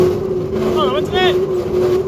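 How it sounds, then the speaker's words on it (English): An old Toyota Cressida MX32 rolls along with a steady, loud low engine drone and road hum inside the cabin, while a voice talks briefly over it. "You find us rolling in my very luxurious, very quiet Toyota Cressida."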